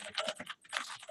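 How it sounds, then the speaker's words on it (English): Quick, light taps on a computer keyboard come close and fairly quiet, a short run of keystrokes, a brief pause, then more typing. "You can just click anywhere on the page and start typing."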